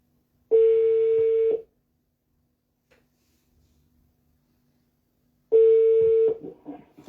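A telephone call ringing out after a number is dialed: two long steady ring tones, each about a second, separated by several seconds of near silence, the second followed by brief faint noise.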